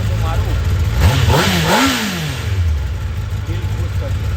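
A Kawasaki ZX10R motorcycle engine idles close by, then revs up in a rising and falling surge around the middle before settling back to a rumbling idle, with someone talking over it.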